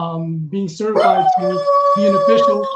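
A pet dog howls in long, wavering tones close to the microphone, rising and falling over several seconds while a person speaks at the same time.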